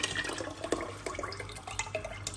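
Stock being poured from a glass over washed lentils in a pot, a close, uneven splashing and trickling of liquid with small drips, heard alone without talk.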